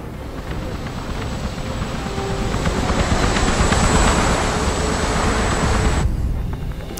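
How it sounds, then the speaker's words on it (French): Helicopter flight in the Hitman video game: a loud, steady broadband rotor and engine roar with a thin high whine, holding for about six seconds before cutting off abruptly. "Petite sortie en hélicoptère"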